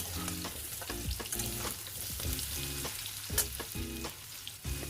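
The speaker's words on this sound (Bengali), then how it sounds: "তারপরে আলুগুলোকে দিয়ে দেব। আলুগুলো দিয়ে নাড়াচাড়া করতে হবে।" Potatoes frying with panch phoron in hot oil, a steady close sizzle with repeated rhythmic scrapes and knocks of a spoon stirring against the pan, no voices.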